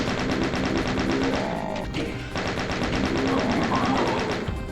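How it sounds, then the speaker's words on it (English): The chain gun in Doom 2 fires in a fast, unbroken stream of loud, evenly spaced shots, with only a brief dip partway through before the rattling burst resumes. "I'm gonna use the chain gun here next"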